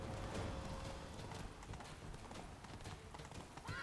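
A horse's hooves clip-clop steadily in The Witcher 3 as it climbs a mountain, a rhythmic trotting under a noisy game soundtrack.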